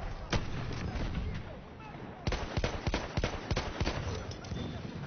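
Sharp gunshots in Battlefield 1, a scattered single crack first, then a quicker string of shots in the second half, fairly faint overall with a voice speaking over them.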